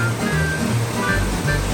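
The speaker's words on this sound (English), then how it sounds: "Shorokudai Falls. That's a real waterfall." Shorokudai Falls, a waterfall in Japan, roars as a loud, steady wash of rushing water that fills every moment without a break.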